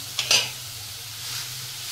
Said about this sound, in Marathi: आता तुपामध्ये आहे ना चांगलं पहिलं परतून घ्यायचं, म्हणजे चांगलं जरा भाजल्यासारखं करायचं